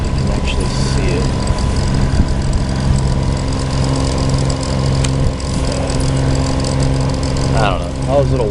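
A warmed-up boat engine idles with a steady, even rumble throughout, on a trip across Florida by Lake Okeechobee, with a voice talking over it.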